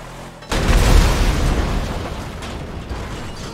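A loud, deep video game vehicle crash explosion in FiveM bursts in suddenly and rumbles on, then fades slowly into a long noisy roar, with no voices.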